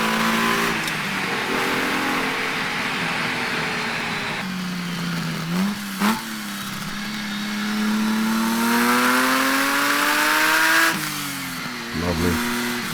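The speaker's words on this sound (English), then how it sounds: "I'm leaving the end in as well because you just have to listen to the engines." A Ferrari Dino V6 engine revs up and down repeatedly, its pitch rising and falling in long sweeps with close, loud blips of throttle.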